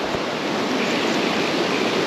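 The Nantahala River runs high, giving a loud, steady broadband rush of fast-moving water that stays constant and close throughout, with no voices.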